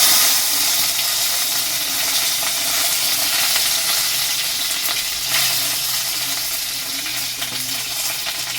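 A bay leaf fries in hot oil for shukto, producing a loud, steady, close-up sizzle and hiss that holds evenly throughout with no talking.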